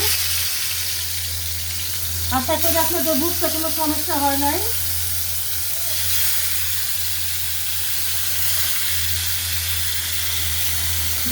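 Rui fish frying in a pan, a steady broadband sizzle running throughout, with a voice speaking briefly over it early on.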